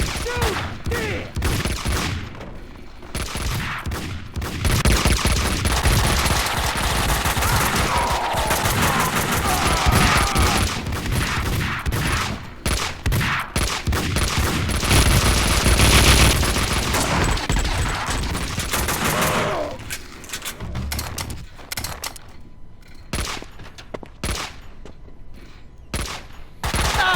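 Sustained heavy gunfire in the Max Payne 2 video game on Xbox, dense rapid shots and bursts layered over each other, loud and continuous with a brief lull near the end, voices shouting occasionally.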